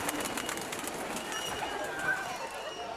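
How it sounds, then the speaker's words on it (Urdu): Pigeons in a park give soft, continuous bird calls and cooing against a steady outdoor background, with faint distant activity throughout. "کبوتر"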